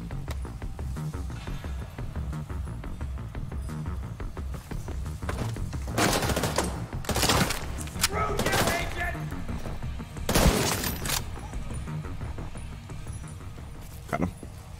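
Gunfire in the video game The Division 2, rapid automatic bursts rattling along with several louder heavy shots standing out, a player talking occasionally over the shooting.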